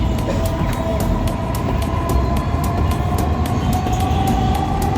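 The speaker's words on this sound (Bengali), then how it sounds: "মেট্রো যাচ্ছে।" A metro train passes nearby with a loud, continuous rumble and a steady tonal whine lasting the whole stretch, no talking over it.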